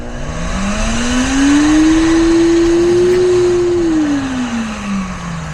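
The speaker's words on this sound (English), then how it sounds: "Now let's test the vacuum real quick" A Grandstorm retractable vacuum from Giraffe Tools runs with a steady motor whine, its pitch rising as it spins up, holding near the middle and easing down at the end, loud and close with a broad airy rush and no talking.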